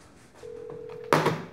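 A telephone in a Chinese horror film's girls' dorm rings once with a steady tone that goes unanswered, followed by a sharp clattering bang.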